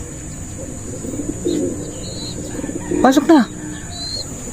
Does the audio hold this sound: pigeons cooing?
yes